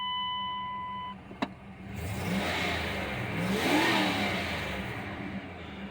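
Dodge Dakota 5.2 V8 Magnum 4x4 engine revving up from idle with the air conditioning on full blast, a close, rising and falling rev over a steady hum of the running engine.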